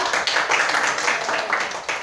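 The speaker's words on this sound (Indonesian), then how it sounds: "Tepuk tangan dulu yang kuat sama kelompok 2" A classroom applauds group 2 with brisk, dense clapping that runs steadily throughout, fairly loud and close.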